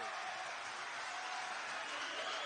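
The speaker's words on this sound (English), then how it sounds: "This crowd here is fired up." A fired-up home crowd roars continuously at a college basketball quarterfinal game, a dense, even wash of cheering with no distinct voices standing out.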